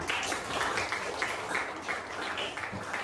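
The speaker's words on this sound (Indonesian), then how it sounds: "Oke, tepuk tangan." A school class claps their hands together in a classroom quiz session, loud, close and continuous with slightly uneven rhythm and no talking over it.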